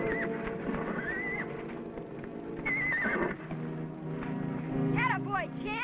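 A stallion whinnies twice, with high wavering neighs over clip-clopping hooves and background talk and music, in the TV western Adventures of Champion.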